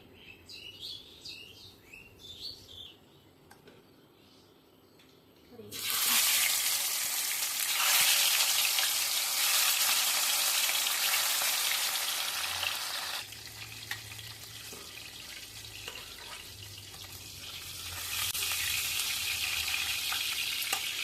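Fish sizzling and frying in a hot pan for a spicy curry, a loud steady hiss that starts suddenly after a few quiet seconds with faint birdsong, then carries on without talk.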